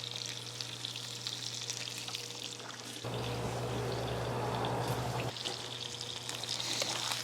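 Venison liver sears in a pan with salt and pepper, producing a quiet, even sizzle that swells into a louder, denser hiss for a couple of seconds midway before settling back.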